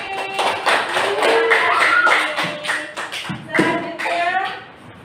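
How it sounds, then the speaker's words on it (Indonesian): Classroom students clapping for a group, a close, quick patter of hand claps mixed with voices and shuffling throughout. "kita tepuk tangan untuk kelompok seri"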